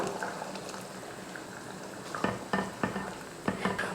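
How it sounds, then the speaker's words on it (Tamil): Tamarind water poured into a simmering kara kulambu in a pot, a steady bubbling and sizzle with a few louder splashes and clinks of stirring toward the end; no speech. "ஒரு சின்ன நெல்லிக்காய் அளவுக்கு புளி எடுத்து கரைச்சிருக்கேன், அதையும் சேர்த்துக்கலாம்."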